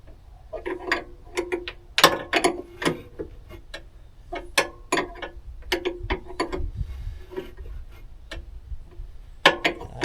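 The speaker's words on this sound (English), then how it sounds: "I know this is kind of a big wrench for this project, and I don't want to over tighten." A large wrench tightening a fitting on an Onan 5500 generator: a series of sharp metallic ratcheting clicks in irregular bursts, close and fairly quiet, with no talking.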